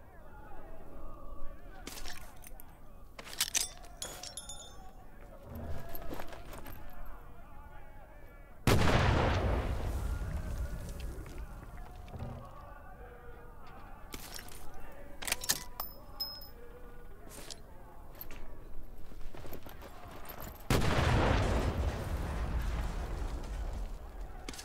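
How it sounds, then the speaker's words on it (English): A grenade thrown and exploding in the Medal of Honor: Above and Beyond VR game, with a heavy close blast booming and decaying, scattered gunfire and metallic clatter around it, and a voice speaking between the sounds. "Arm the grenade and throw it."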